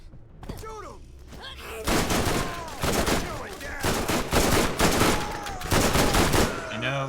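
Rapid gunfire from the video game Borderlands 1, loud bursts of automatic shots and repeated volleys filling most of the stretch after a brief quieter opening.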